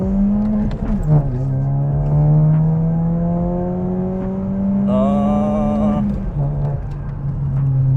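A VW Scirocco GT engine revs hard during a launch, a loud sustained drone climbing steadily in pitch with a brief dip near the start and a gear change late on, heard from inside the car.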